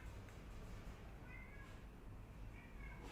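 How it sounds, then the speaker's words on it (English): A domestic cat meows a couple of times, soft and somewhat distant, over a steady low room hum. "That's just my cat."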